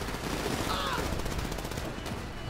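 Gunfire in the video game GTA V during a convoy mission, a continuous rattling burst of automatic shots at moderate level, steady throughout with a brief whooshing sweep midway.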